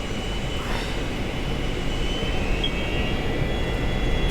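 A 1976 DC-9 airliner's jet engines roar steadily at high thrust in the cockpit during takeoff, a broad continuous rumble with a faint whine above, loud and unbroken.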